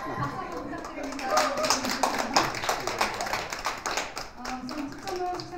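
Audience applause at an award ceremony for a lesson-material competition, steady crowd clapping throughout with scattered claps standing out, a faint background tone and some voices murmuring underneath.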